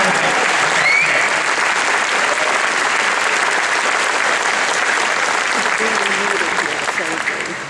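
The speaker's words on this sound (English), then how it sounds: "please join me in giving a huge round of applause to our parents" An audience at a graduation-style celebration claps for parents and family, a dense, loud round of applause that carries on steadily before tapering slightly at the end.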